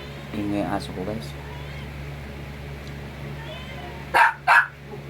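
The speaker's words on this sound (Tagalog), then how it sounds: "Ingay ang aso ko" A dog barks twice in quick succession near the end, loud and close, following a stretch of indistinct talk and low household hum.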